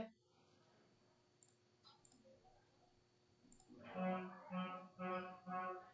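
Computer mouse clicks while filling in a UPSC ESIC Nursing Officer online form, a few faint clicks, then a voice talks over the rest.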